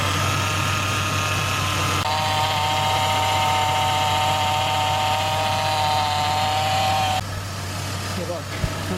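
Power steering pump on a 3.5L GM Chevrolet Impala (2006–2013) raised on stands, whining steadily and loudly as the wheel is turned from lock to lock, a sustained tonal drone over engine hum that drops off near the end.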